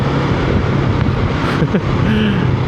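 A Honda CB650R motorcycle rides along the Marilaque mountain road, with a steady, loud engine and wind roar running unbroken from start to finish.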